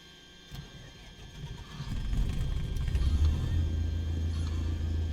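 A single-engine aircraft engine starts up in a flight simulator game, cranking faintly before catching into a steady low rumbling idle that builds and holds loud to the end.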